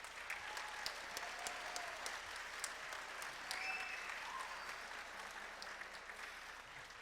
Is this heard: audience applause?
yes